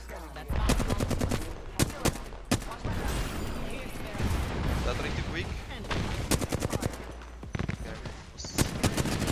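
Rapid bursts of automatic gunfire from an Apex Legends firefight crackle loudly and close, in repeated strings of shots over a dense background of battle noise, with some voice chatter mixed in.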